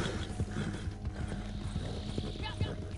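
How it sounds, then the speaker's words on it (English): Horse in a video game neighing and panicking, with rapid clip-clop hoofbeats and clicks, a whinny rising near the end over a busy game soundscape. "My horse is freaking out."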